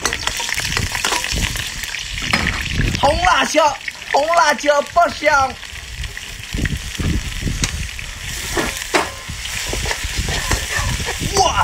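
Seafood with scallion, ginger and garlic stir-frying in a wok for a home-cooked meal, loud sizzling and scraping stirs right up close, with someone talking excitedly over the cooking.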